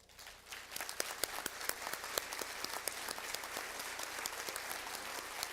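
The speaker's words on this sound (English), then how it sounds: "we want to give you a round of applause" An audience at an indoor event applauds, with dense, sustained clapping that starts quickly and holds steady, fairly close, with no speech over it.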